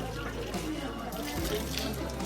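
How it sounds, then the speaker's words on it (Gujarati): Water runs steadily from a tap at a stop on the Kedarnath pilgrimage route, a soft continuous wash heard faintly beneath nearby talk. "નળ આવી ગયો છે પાણી પીવાનું છે ને મોટું ધોવાનું છે"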